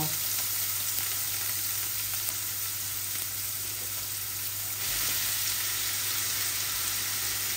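Onion and bay leaf frying in a pan with pieces of ginger for a teasel gourd (kakrol) fry, a constant dense sizzle under a steady low hum, with no speech.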